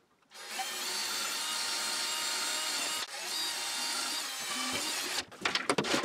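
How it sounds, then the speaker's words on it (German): A power drill boring holes through wood for mounting a door handle on a small corner cabinet, a sustained loud whine with a brief dip midway, then stuttering bursts as the bit breaks through. "Dann habe ich jetzt hier einen Türgriff, den habe ich mir angezeichnet und bohre jetzt da die Löcher durch."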